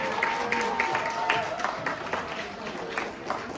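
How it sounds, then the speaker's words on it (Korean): Wedding guests in a Techno Mart Wedding City hall applaud the bride's younger sibling after a congratulatory song, a steady, dense wash of clapping lasting throughout with some voices mixed in. "우리 신부님의 신동생분에게 박수 보내주시면 감사하겠습니다."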